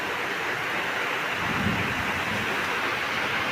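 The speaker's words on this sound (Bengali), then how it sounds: "এখনো বৃষ্টি পড়তেছে।" Steady, loud rain pours down at a rural home during harvest season, a continuous dense hiss with a low rumble underneath and no talk.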